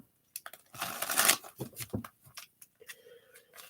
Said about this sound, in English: I'm being told to do a complete shuffle